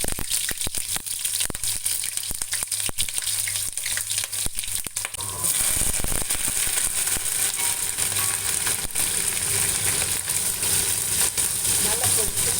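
Onions and fennel seeds frying in oil for a Chettinad crab masala, a steady loud sizzle that swells partway through as the onions hit the pan, with clinks of a utensil over it.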